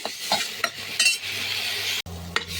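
Chopped onions sautéing in a pan for a macaroni pasta dish, a steady close sizzle broken by scraping clinks of a spoon stirring against the pan, with a brief pause near the end.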